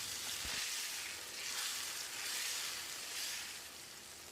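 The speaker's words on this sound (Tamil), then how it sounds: "புளிக்கரைசல் கொதிக்க ஆரம்பிச்சிருச்சு" Steady bubbling and sizzling from tamarind water boiling in a pan on the heat, a continuous hissing simmer with a faint clink near the start.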